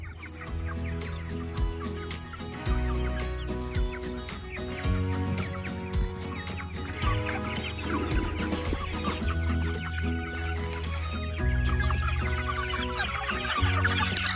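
Broiler chickens cluck and squawk in a busy flock at feeders, a steady overlapping chorus of short calls with occasional louder outbursts, close by and continuous.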